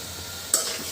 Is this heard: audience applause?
no